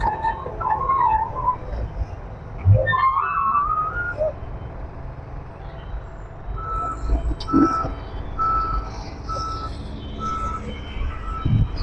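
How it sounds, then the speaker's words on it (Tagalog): A truck carrying soil reverses at a flyover construction site near a wharf, its steady high reversing beeps repeating over a constant engine rumble and site noise, with some faint whistling in the background. "So dito may truck na may kargang lupa."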